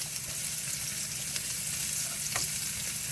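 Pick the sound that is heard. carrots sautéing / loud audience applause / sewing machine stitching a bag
carrots sautéing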